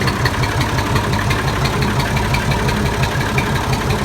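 A tractor engine idles close by with a steady, loud, throbbing chug that holds unchanged throughout, with no voices.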